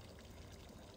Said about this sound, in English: My hand moves the water and becomes part of its energy field.